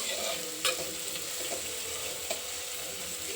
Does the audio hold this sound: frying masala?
yes